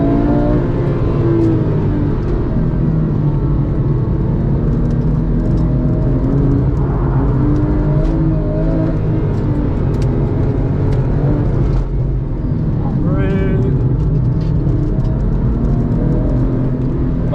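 A Porsche 996 GT2 engine drones loudly and continuously from inside the car while driving, with steady harmonic engine tones that shift in pitch as it accelerates and changes gear, no talking.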